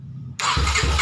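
A Kawasaki Ninja motorcycle with a missing-ignition fault cranks on its electric starter, a sudden loud mechanical whir that begins after a quiet moment and churns with a pulsing rhythm, close up.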